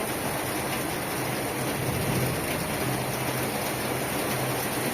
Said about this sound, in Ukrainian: Звичайний ливень грозо.